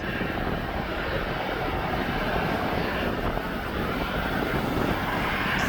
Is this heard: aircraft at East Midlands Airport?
yes